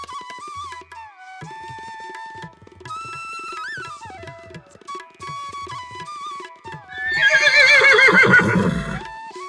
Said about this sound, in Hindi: चल मेरे घोड़े, तेज चलो नहीं तो देर हो जाएगी।